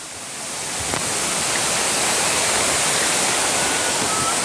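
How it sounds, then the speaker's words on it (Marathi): A waterfall roars as a dense, steady rush of falling water, swelling in over the first second and then holding loud and constant with no voices. "हा आपला समोरचा धबधबा आहे मित्रांनो"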